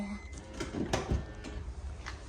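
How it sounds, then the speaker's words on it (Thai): A household door is shut in a Japanese home, giving a brief muffled thump amid room noise while a child and an adult talk nearby. "ปิดประตูค่ะเห็นไหม"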